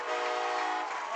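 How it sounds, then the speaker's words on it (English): Air horns blowing at a high school football stadium in Carey after a touchdown, one loud continuous chord-like blast with a steady harmonic tone held for about a second. "The air horns are blowing."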